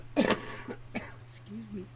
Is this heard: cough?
yes